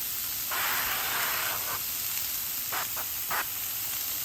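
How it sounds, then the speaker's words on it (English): Cooking spray hisses from a can in one longer burst followed by a few short spritzes, close by over a faint background hiss. "We're gonna add a little bit of spray oil over the top."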